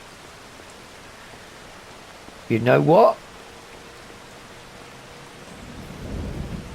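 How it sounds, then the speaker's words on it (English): Heavy rain pours in the video game Farming Simulator 25 as a steady, even hiss, with a low thunder rumble swelling near the end; someone briefly speaks over it. "Teeming down with rain."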